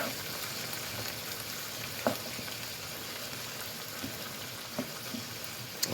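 Drained ground beef for chili being stirred in a Dutch oven pot, a soft continuous sizzle and scrape with a few faint spoon knocks, fairly quiet and with no talking.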